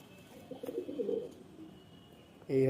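A pigeon handled up close gives a short soft coo amid faint rustling, then a louder brief sound at the end.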